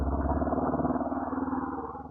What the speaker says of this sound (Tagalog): unahin muna natin yung motor